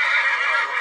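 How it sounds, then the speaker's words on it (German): A single five-year-old Oldenburger gelding neighs in a brief, shrill whinny, close and fairly loud, with no talking. "Das Pferd heißt No Name, 5 Jahre alt, Oldenburger Wallach von Scalino"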